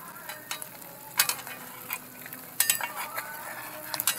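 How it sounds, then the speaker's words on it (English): Egg scrambling in a pan on a homemade tin-can wood stove: a steady sizzle under scraping stirs and a few sharp metal clinks of utensil against pan, close by with no talking. "make a scrambled egg"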